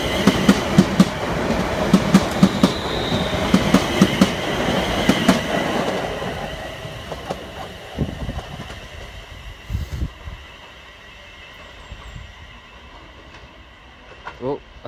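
A TransPennine Express class 350 electric train departs Lancaster on the West Coast Main Line, with rhythmic wheel clatter over rail joints that gradually fades into the distance, and a voice talks briefly over it.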